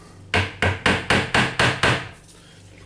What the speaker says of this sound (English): so I use the hammer.